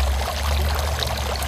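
Water pours steadily from a garden water fountain, a continuous splashing and trickling wash with a low rumble underneath and no pauses.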